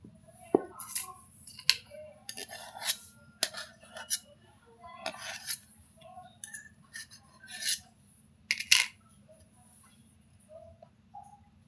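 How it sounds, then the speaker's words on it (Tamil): Bread being cut into slices with a knife on a kitchen surface, a series of soft, scattered scraping strokes and light taps over a low background hum, fairly quiet and close. "அதையும் நம்ம கட் பண்ணிக்கலாம்."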